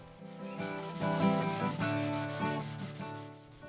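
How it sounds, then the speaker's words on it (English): A shellac-finished ukulele is hand-sanded with fine 600-grit sandpaper during French polishing, giving a close, steady scratchy rubbing in back-and-forth swells over a continuous tonal background hum, without speech. "what I'll do next is sand with some very fine sandpaper, approximately 600 grit"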